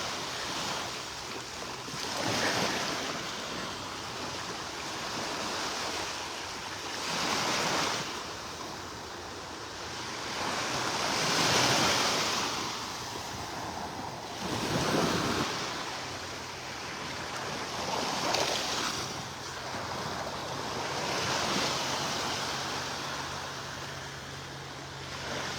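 Morning ocean waves roll onto a beach in North Naples, Florida, in slow rhythmic surges, each swelling and fading, with steady wind rushing over the microphone.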